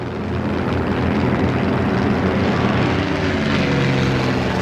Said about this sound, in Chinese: 这飞机是不错，好得很。 关键是它太费油了